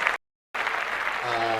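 Dense applause and cheering from a podcast studio audience, loud and close, broken by a brief silent gap and then resuming steadily.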